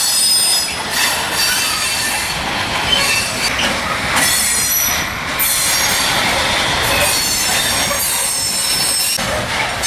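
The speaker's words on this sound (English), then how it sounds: "we are really glad this train is leaving, because it was blocking the entrance to the yard." A train pulls away from a rail yard entrance during a Balkan tour, its wheels squealing loudly and continuously against the rails with a harsh metallic screech over rumbling, clattering cars.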